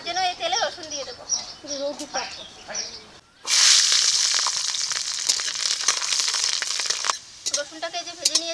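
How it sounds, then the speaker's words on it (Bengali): Garlic dropped into hot oil bursts into a loud, steady sizzle for several seconds, fried before adding kochur loti (taro stolons); someone talks before and after the frying. "এখন আমি কচুরলতিটা ভেজে নেব, তার জন্য এই তেলে রসুন দিয়ে দেবো।"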